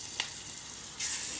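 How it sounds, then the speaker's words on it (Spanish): Small patties browning in oil in a pan hiss with a continuous close sizzle, a quick crackle early on, then the sizzle swells louder and brighter for the last half second. "Y comienzo a hacer las tortitas. Y aquí tengo mis 4 pelotitas. Y ahora las voy a dorar un poquito."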